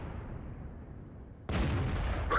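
An SU-85I tank gun fires in World of Tanks, one sudden loud close blast cutting through a low engine rumble, followed by a sharp ringing impact.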